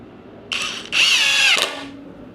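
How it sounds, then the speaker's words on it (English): A Seesii 3-in-1 cordless drill drives a 1-inch screw in two loud, close whirring bursts: a brief spin, a pause, then a longer high-pitched run that rises and ends abruptly. "no issues driving in those 1-inch screws"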